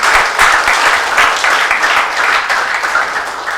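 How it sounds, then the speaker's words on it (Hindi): Loud, dense applause from a crowd at a mushaira poetry gathering in Bhopal, steady clapping throughout with no voices standing out. "मैं चाहता हूं एक बार जोरदार तालियां ठीक पड़नी चाहिए।"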